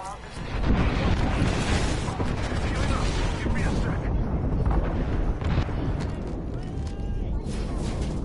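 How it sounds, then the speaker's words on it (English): Airstrike explosions pound a position in the Apex battle game, a loud, dense wall of roaring blasts and crackling debris that barely lets up. "There is an airstrike on our position."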